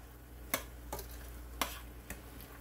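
Ground turkey browning in a pan with a low, steady sizzle broken by a few sharp scrapes and clicks of a utensil stirring the meat, quiet and close with no talking.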